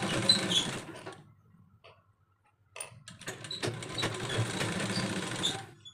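A sewing machine stitches a kurti sleeve in two bursts, a steady close whir that pauses for about two seconds of near silence before starting again. Nobody speaks.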